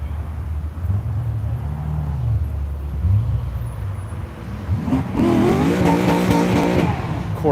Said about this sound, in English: Corvette warming up its tires